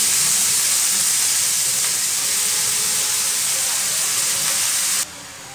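Spinach and fenugreek greens hit a hot pan with onions and chillies, giving a loud continuous hiss and sizzle that holds steady before cutting off abruptly near the end.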